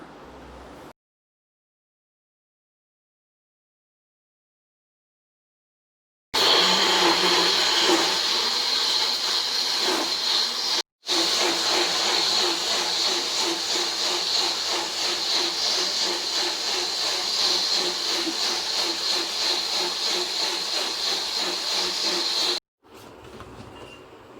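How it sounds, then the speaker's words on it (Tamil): After a stretch of silence, a mixer grinder grinding chutney roars with a loud, steady mechanical whirring for long stretches, stopping briefly once, with a faint rhythmic churn underneath. "இப்போ மிக்ஸி ஜாரில் போட்டு அரைச்சி எடுத்து வச்சிடலாம்."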